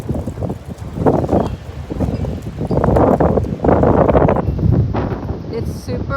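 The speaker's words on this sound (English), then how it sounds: "You can hear the wind." Strong outdoor wind roars and buffets the microphone near pine trees, surging in gusts while a person talks over it.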